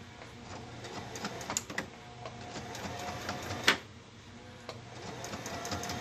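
A sewing machine stitches a quarter-inch seam, starting with a back stitch. The clicking and whirring is faint and close, with a few sharper taps scattered through a quiet, continuous run.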